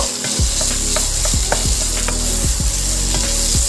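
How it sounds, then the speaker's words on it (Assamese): Food frying and being stirred in hot oil in a home kitchen, with papad and potatoes in the pan: a steady dense sizzle close up with repeated scraping knocks of a spatula at an irregular rhythm, no voices. "গোটেইখিনি অকণমান সময়লৈকে ভাজি ল'ব"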